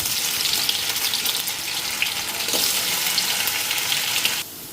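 Potatoes fry in a pan with a steady, fairly loud hiss and crackle, broadband sizzling that holds throughout before dropping sharply near the end, no talking.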